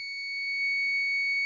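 A continuity tester buzzes against a ground point on a desktop motherboard during repair work, giving one steady high-pitched electronic tone that sounds alone and holds for the whole moment.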